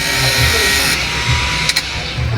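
Small electric blower motor in a Susan 735 washing machine spinning during repair, a steady loud high-pitched whir that runs close throughout with a brief clatter near the end.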